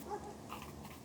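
A dog barks and yelps in a Jamaican yard scene, faint and somewhat distant, in a short burst set against ambient background noise.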